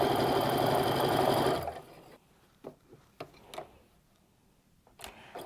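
A sewing machine stitches a quilt seam on half-square triangle blocks, running as a steady loud whir for under two seconds and then stopping, followed by a few faint clicks and taps of fabric handling.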